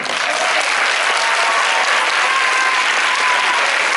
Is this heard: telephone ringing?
no